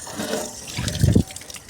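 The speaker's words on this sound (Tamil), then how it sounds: "ரொம்ப தண்ணி விடாமல் கொஞ்சம் மட்டும் விடுறேன்." A small amount of water is poured onto potted plants, a soft trickling splash that builds briefly near the end and then stops.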